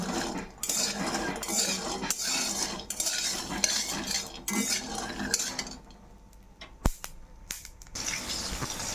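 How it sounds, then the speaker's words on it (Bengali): Peanuts dry-roasting in a pan while being stirred, a string of scraping and rattling clinks of nuts and a utensil against the metal pan, close and fairly quiet, then a few sharper knocks. "এপাশে আমরা এগুলি বাদাম দেওয়ার জন্য শুকনো খোলায় বাদামগুলো ভেজে নেব"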